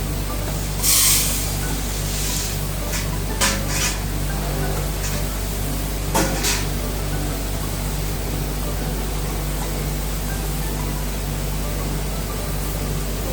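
Five kilograms of green coffee beans pour into a roaster, a long, steady hissing rush of beans sliding over metal, broken by a few brief louder clattering bursts near the start and middle.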